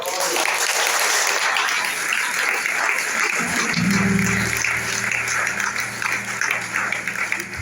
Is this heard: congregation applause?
yes